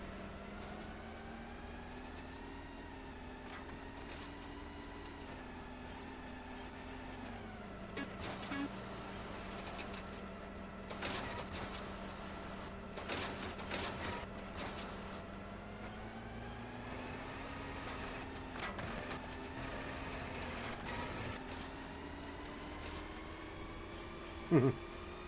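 A recycling truck collects bins on a street, its engine a steady tonal drone whose pitch rises and dips as it works, with scattered clanks and a sharp knock near the end.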